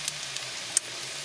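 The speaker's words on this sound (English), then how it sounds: "now I'm frying the cabbage patties with the last two falafels" Cabbage patties and the last two falafels fry in a pan with a steady, soft sizzling hiss and a few faint crackles and pops, one sharper pop near the end.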